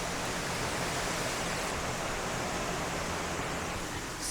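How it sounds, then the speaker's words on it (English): Heavy rain pours down outside in humid Florida weather, a dense, steady, roaring hiss that stays loud and constant from start to finish with no voices over it. "It is literally pouring outside."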